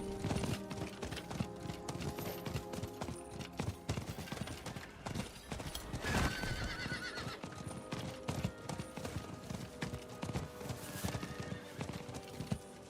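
Horse hooves clip-clop at a gallop with repeated neighs and whinnies in Diablo 4, steady and close over dense game music and effects.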